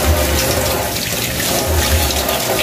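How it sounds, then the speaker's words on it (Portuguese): Rice being washed under a running kitchen tap: a steady, close rush of water with faint swirling and splashing, no voices. "Mas eu sou acostumada a lavar arroz"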